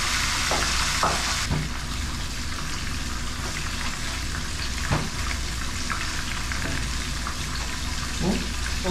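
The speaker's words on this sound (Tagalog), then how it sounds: "habang piniprito natin yung ating tilapia" Tilapia frying in a pan of oil, a steady broadband sizzle running throughout with occasional louder pops and crackles, close and continuous without talk.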